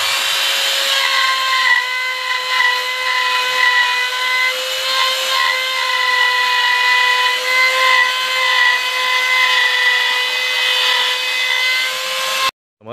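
A power carving tool grinds at the teeth of a wooden dragon statue carved from rosewood, a steady high whine with a gritty rubbing edge that runs without a break for about twelve seconds and then cuts off abruptly.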